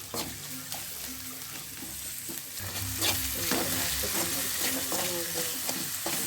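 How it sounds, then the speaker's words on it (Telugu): Onions with salt frying in a pan and being stirred steadily, a continuous sizzle broken by scraping stir strokes, close and fairly loud, with no talking. "ఉప్పు వేసుకొని ఇలా బాగా కలుపుకోవాలండి."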